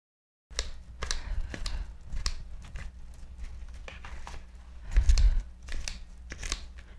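Kitchen scissors snip cooked chicken in a bowl repeatedly at close range, a series of crisp cuts at an uneven pace with soft thuds.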